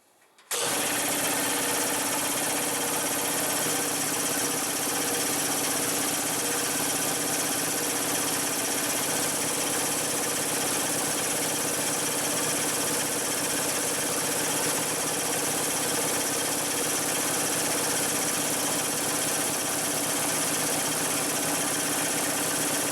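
A Snap-on air compressor kicks on abruptly and runs with a constant loud mechanical drone and hum throughout, close to the microphone, with no voices.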